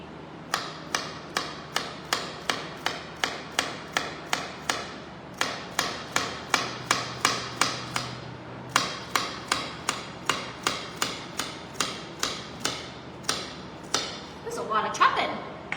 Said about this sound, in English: There's a lot of chopping.